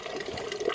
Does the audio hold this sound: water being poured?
yes